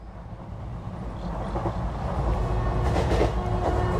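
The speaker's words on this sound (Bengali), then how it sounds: "ট্রেন ছুটছে দিক বিদিক জ্ঞান হারিয়ে।" A train running on its tracks as an audio-drama sound effect: a continuous low rumble with rattling that swells slightly louder toward the end, with no voices.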